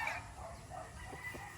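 A rooster crows faintly in the distance over a low rumbling background, with scattered clucking from nearby fowl.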